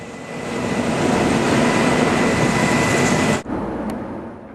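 A loud, steady roar of rotor and turbine noise from the US president's helicopter landing in France fills the air, broken by a brief dip before the heavy whine continues close by.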